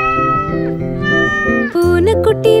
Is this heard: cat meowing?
yes